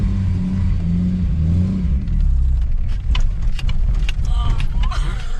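A car with a manual transmission cranks and catches, its engine rumbling and revving unevenly at close range, with people talking over it.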